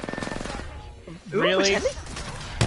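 Rapid bursts of gunfire crackle in an Apex Legends match, a quick run of shots opening the moment, followed by players talking over the game audio.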